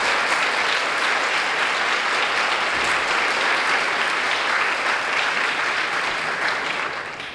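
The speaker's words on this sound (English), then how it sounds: "Let's give them a big round of applause." An audience at a teacher of the year celebration applauds the finalists with sustained, even clapping that holds loud for several seconds before starting to fade at the end.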